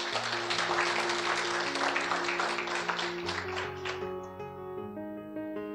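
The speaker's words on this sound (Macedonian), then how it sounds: "Сега може аплауз за Светиот Дух." A church congregation breaks into dense applause over sustained organ-like chords. The clapping fades out after about four seconds, leaving the music ringing on alone.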